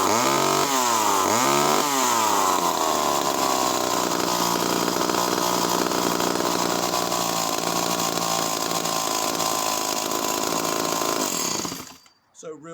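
A late-1960s Skilsaw 1644 chainsaw engine runs loud and close at a steady high rev after a couple of early rises and falls in pitch. It keeps a harsh, buzzing drone until it cuts off abruptly near the end.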